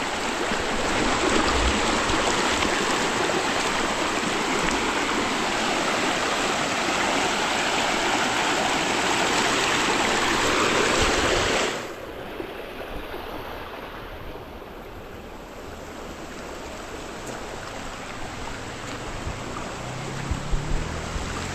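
Rushing river water flows continuously with a broad, steady hiss, loud at first and then a bit softer and more distant.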